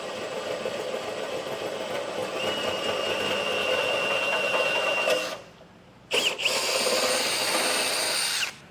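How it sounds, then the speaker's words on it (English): A power drill fitted with a 1/2 inch bit bores out a hole in a vehicle's steel bumper beam while a base plate is fitted, a loud steady whine that stops briefly and then starts again. "we're going to have to drill out that hole to a 1/2 inch"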